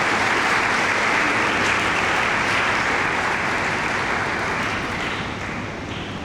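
A church congregation at a Father's Day Mass claps in sustained, dense applause for about six seconds, full and close, slowly easing off toward the end.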